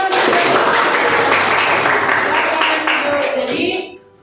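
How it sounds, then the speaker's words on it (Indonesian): Students in a classroom give a burst of dense applause that holds steady for several seconds and then fades out quickly. "Tepuk tangan."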